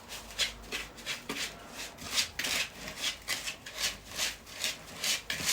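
Soft butter and sugar being mixed together for lemon cookies, repeated rhythmic scraping and rubbing strokes in a bowl, close and quiet.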